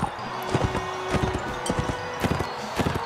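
Hooves clip-clop in a quick irregular rhythm from a horse in the video game Mount & Blade: Warband, close and prominent, with a brief tonal whinny-like sound mixed among the hoofbeats.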